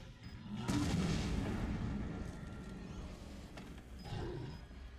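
Bomb explosions in Resident Evil 7, a deep, fairly muffled boom with a roaring rumble that sustains, followed by a second, smaller burst a few seconds later.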